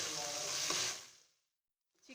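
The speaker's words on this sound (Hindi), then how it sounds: "चिकन जो है वो अच्छी तरह से फ्राई हो गया।" Chicken frying in a pan with black pepper, salt, crushed red chilli and cumin gives a loud, dense sizzle that fades to silence within about a second and a half, followed by a faint brief clatter.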